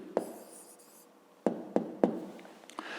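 Pen writing an answer in a school math notebook, a handful of short, close scratching strokes separated by brief pauses.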